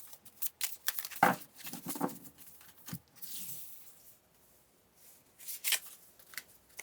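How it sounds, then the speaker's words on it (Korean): Tarot cards being shuffled and drawn, soft close papery riffles and slides in uneven bursts with quiet pauses between. "카드를 2장 뽑아보겠습니다"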